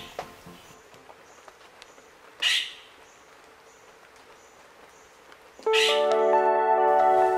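Tandikan bird calling in a Palawan wildlife sanctuary in Puerto Princesa, two short bright call bursts heard fairly near over quiet forest ambience, followed by a sustained tonal chiming call toward the end.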